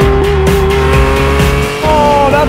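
A mid-engine mini Ferrari racing car engine revving loud and close, a buzzing high-pitched tone with shifting pitch as it accelerates and changes gear, with tyre noise underneath.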